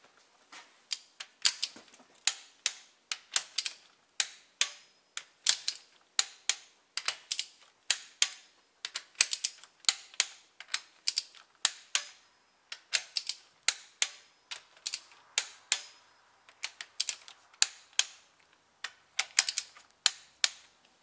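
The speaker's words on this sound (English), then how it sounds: "Now we'll just pull in the head bolts here" A torque wrench tightens the cylinder head bolts on a Peugeot 307 during a head gasket replacement. Close, sharp ratcheting clicks come in quick bursts with short pauses between them, and no one speaks.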